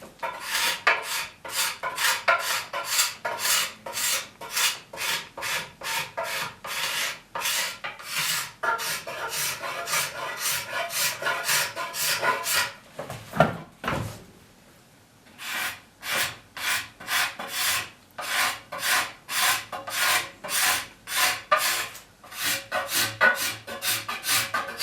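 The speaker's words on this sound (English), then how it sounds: "You can hear that popping. even with the scraper, and that's those medullary rays" A cabinet scraper works along a wooden arm rail, catching on the medullary rays with rapid, rhythmic rasping strokes and popping, close and steady, with a short pause partway through.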